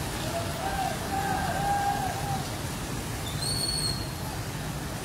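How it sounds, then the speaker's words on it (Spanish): Heavy morning rain falls steadily in the Siloé neighborhood as families bring children to school, a continuous dense hiss throughout with faint bird calls above it. "Así fue la lluvia acá en Siloé esta mañana"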